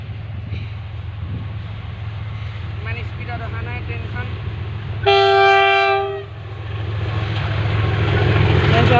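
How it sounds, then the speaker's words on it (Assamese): A freight train rumbles past steadily with a loud horn blast midway, while voices talk faintly over the ongoing rail noise. "এখন মালগাড়ী ট্ৰেইন আহি আছে"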